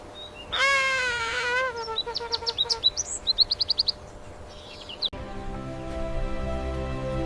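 A bird gives a long harsh call followed by a quick series of sharp repeated chirps, fairly loud and close, then a steadier droning background takes over; nobody talks.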